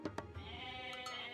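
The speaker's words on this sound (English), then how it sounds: "It's a lot of goats here." Goats bleat in a real-time strategy game, two short bleats at the start over a steady hum of game sound, all fairly faint and distant.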